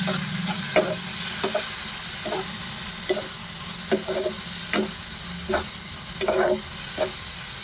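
Tomato dal being stirred in a pot, a spoon scraping and knocking against the sides in regular strokes roughly every second over a soft background sizzle, close and clear.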